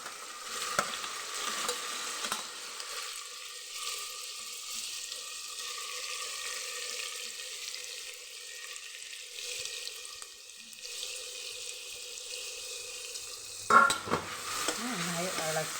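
Beetroot stir-fries in a pan of hot oil with popped mustard seeds, a steady close sizzle under the scrape of stirring, ending with a sharp clatter of the pan and no talking.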